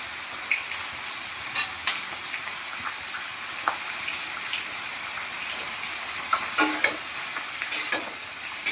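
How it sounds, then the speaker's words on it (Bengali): Ivy gourd (kundri) frying with onions in a pan: a constant close sizzle of oil broken by irregular scraping knocks and clatters of a spatula stirring, several sharp hits near the end. "এবারে কুঁদরিগুলো এই পেঁয়াজের মধ্যে দিয়ে দেবো, একসাথে ভেজে দেবো।"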